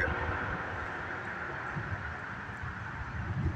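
A northbound CSX mixed freight train passes with a strong, sustained horn blast held over a low rolling rumble, steady and fairly loud throughout, without talk.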